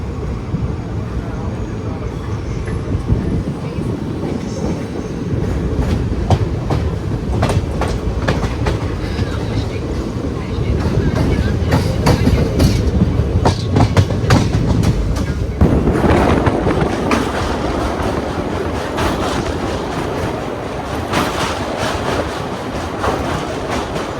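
The 22149 Ernakulam–Pune SF Express rolls along steadily, with a loud continuous rumble and rhythmic clickety-clack of wheels over rail joints heard from inside a coach, plus a brief metallic rattle midway.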